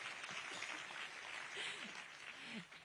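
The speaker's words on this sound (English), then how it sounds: "We can also give them a round of applause." A university audience at a formal address by Macron at AIIMS, India, applauds in a steady, dense wash of clapping that holds at an even level for the whole stretch, with faint voices mixed in.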